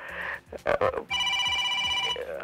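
A telephone rings with a steady electronic trill lasting about a second, preceded by brief voices and clatter.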